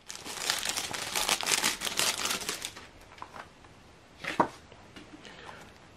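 A sheet of 4x6 photo paper crinkles and rustles in a rapid burst of crisp handling at the paper tray of an Epson EcoTank ET-4850 printer, then a few quieter scrapes and one sharper rustle follow.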